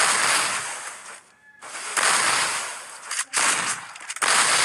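Rapid bursts of gunfire from the Free Fire video game crackle loudly in several separate volleys, broken by brief pauses, with no talk over them.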